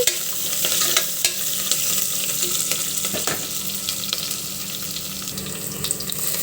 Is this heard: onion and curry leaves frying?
yes